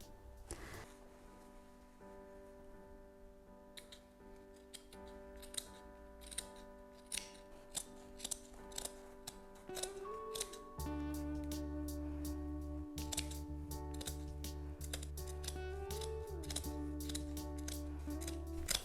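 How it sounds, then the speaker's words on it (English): Scissors snipping through the fabric of a dress being cut apart for a skirt, a run of sharp close clicks and crunching cuts that quicken and thicken over a low steady hum, with no talk. "I'm just cutting everything."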